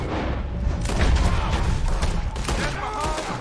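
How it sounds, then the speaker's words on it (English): Repeated gunfire in a Western shootout video game, dense bursts of overlapping shots and thuds throughout, loud and close, with voices faintly under the gunfire. "I'm shooting!"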